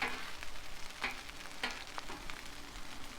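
Fried rice on a Blackstone griddle, a soft sizzle with a few scraping strokes of a spatula across the flat top, brief and fairly quiet, no talking.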